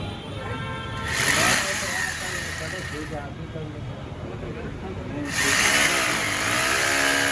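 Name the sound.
power drill running during AC installation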